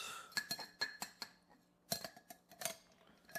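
Light clinks of a martini glass and bar tools while a pickle-brine martini is mixed, a quick series of sharp, close, fairly quiet ticks in an otherwise quiet room.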